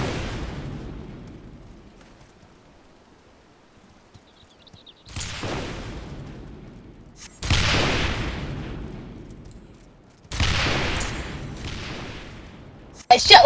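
Cannon shots fired during the Moonfire Faire seasonal event in Final Fantasy XIV, three loud broadband booms spaced a few seconds apart, each with a fading rumbling tail, after a quiet stretch.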